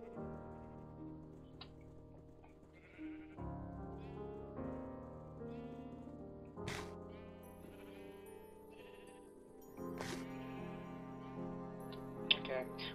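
Repeated sheep bleats from a snake video game, long sustained cries one after another over game background music, fairly loud and up close, with no speech heard.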